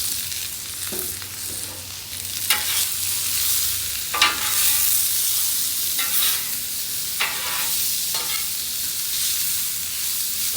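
Vegetables fry in plenty of oil on a grill top with a continuous bright sizzle, broken by several sharp scraping stirs from a utensil, close and alone without any talking.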